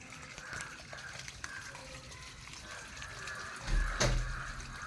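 Waste water drains through the pipe of an old water tank as a faint, steady trickle that swells into a brief louder gush just before the end.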